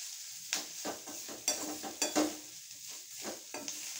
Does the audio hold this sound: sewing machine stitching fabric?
no